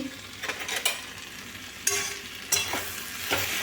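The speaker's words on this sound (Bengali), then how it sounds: "তুলে আরেকবার ভালো করে নেড়ে নিচ্ছি" Tomato chutney with cashews is stirred in a pan. A soft, continuous sizzle runs underneath, and several distinct scraping strokes from the spatula punctuate it at irregular intervals. No voices are heard.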